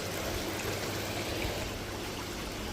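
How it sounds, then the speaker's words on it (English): Running water trickles from a water feature at a garden centre, a soft, continuous babbling flow heard fairly faintly without talk. "There's definitely something about running water that is super soothing and relaxing."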